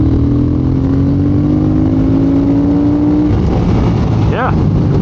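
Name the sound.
2022 Triumph Speed Twin motorcycle accelerating through third gear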